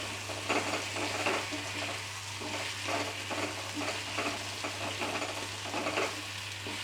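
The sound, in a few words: masala squash frying in a pan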